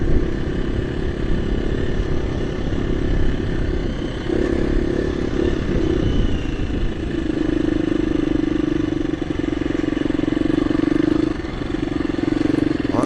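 KTM EXC-F 350 dirt bike ridden along a slippery, chalky, muddy downland trail, its engine droning steadily and close throughout with small shifts in pitch and load, plus rattling and wind noise from the ride.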